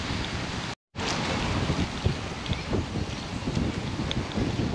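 Strong wind blows through a garden in Givatayim, making steady, loud rushing and rumbling buffeting against the microphone, broken once by a brief dropout near the start.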